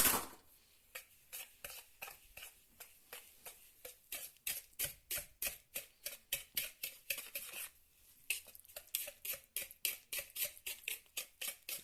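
Egg yolks and sugar mixed by hand in a bowl, a whisk or spoon clicking against the sides in a quick, steady rhythm of sharp taps, close up, with one brief pause partway through.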